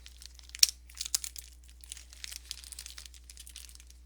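Tape is peeled off plastic toy packaging in quiet, close crinkling and short tearing rustles, with one sharper snap near the start.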